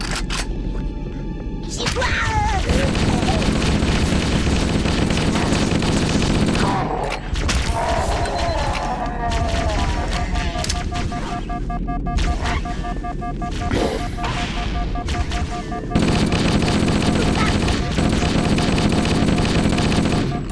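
Sustained heavy gunfire and explosions fill a Halo CE VR firefight, dense and continuous with brief lulls, while someone talks over the din.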